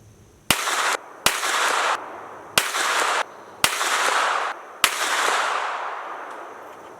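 Five pistol shots from a handgun fitted with a Holosun 509T optic, fired at a steady, unhurried pace, each a sharp, loud crack with a lingering outdoor echo trailing off between shots.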